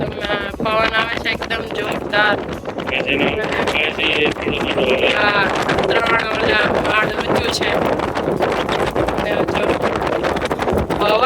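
Strong wind buffets a phone microphone outdoors in the mountain village of Mont Tremblant, Canada, making a loud, steady rumble that runs the whole time while people talk over it.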